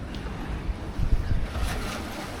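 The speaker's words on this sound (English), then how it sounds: "The currents and sea have been very rough." Rough Indian Ocean sea churning beside an overwater villa in the Maldives, a steady low wash of water with wind buffeting the microphone and a louder surge of waves in the middle.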